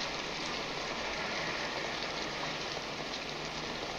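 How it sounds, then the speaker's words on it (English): Steady, dense rain pours down, a constant hiss of drops hitting surfaces with no break and no voices. "it's raining pretty hard."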